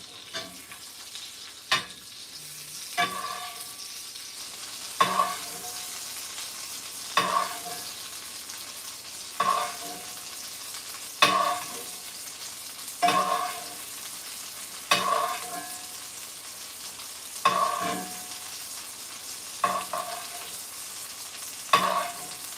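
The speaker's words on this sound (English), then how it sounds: "I think we're gonna see a much better sear now on this side." Turkey meat sears in a pan with onion, rosemary, thyme and garlic, giving a steady close sizzle broken by about a dozen regular scraping stirs every couple of seconds, with no talking.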